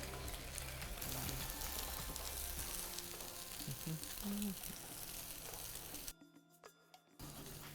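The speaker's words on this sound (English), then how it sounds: "we've got the tofu in, we're going to cook that for about 10 minutes" Tofu frying in a pan, a soft continuous sizzle and crackle at low level with a few faint clinks, dropping away briefly near the end before resuming.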